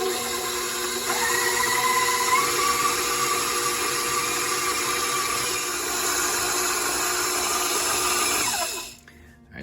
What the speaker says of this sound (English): now I'm gonna finish this in the mixer. So I'm gonna use the paddle attachment